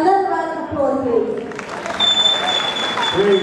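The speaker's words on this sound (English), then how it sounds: "Another round of applause, please." An audience at a dance festival finale applauds, a dense patter of clapping that swells in the second half, partly masked by a sustained tonal voice or music in the foreground.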